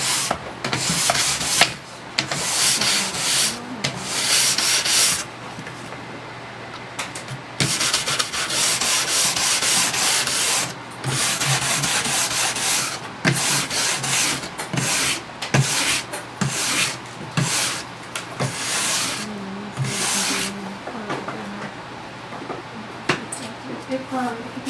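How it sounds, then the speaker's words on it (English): A coarse nylon or horsehair brush scrubs excess wax off the base of a cross-country ski, steady rasping strokes in long runs with brief breaks, close and loud, with a voice talking over it. "use a nylon or horsehair coarse brush to remove the excess wax from the base of the ski"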